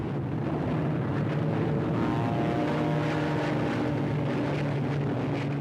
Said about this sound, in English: A Royal Air Force reconnaissance aircraft was sent to confirm the sighting.